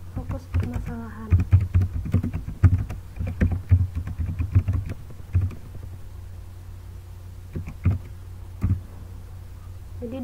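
Computer keyboard typing and mouse clicking at a desk, close, soft irregular taps in quick clusters that thin out into occasional isolated clicks, under a low steady hum, with someone talking over part of it.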